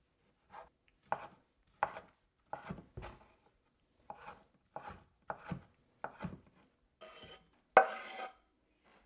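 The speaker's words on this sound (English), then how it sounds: "So we're going to start with some diced tomatoes." Tomatoes diced with a knife on a cutting board for a garden mint and basil salad: about a dozen separate, crisp chopping taps at an uneven pace, close and quiet, ending in a couple of louder, scraping strokes.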